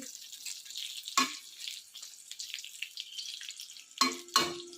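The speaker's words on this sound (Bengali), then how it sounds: "পটল ভাজা বসিয়ে দিয়েছি" Pointed gourd slices fry in a pan with a soft, steady sizzle, broken by a few sharp clinks of a spatula turning them.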